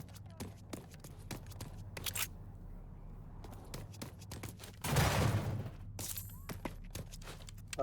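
A pistol firing in the shooter game Rage 2: sparse, sharp single shots at an unhurried pace, fairly quiet, with a louder rushing burst of noise partway through.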